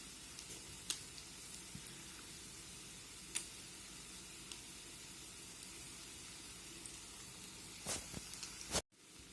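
Potatoes in egg frying in a pan, turned to the second side: a soft continuous sizzle with occasional crisp pops and ticks, steady throughout, ending abruptly.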